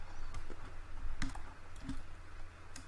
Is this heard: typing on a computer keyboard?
yes